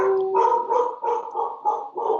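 An excited dog barks close by in a rapid, loud series of about six sharp barks, evenly paced with no pause.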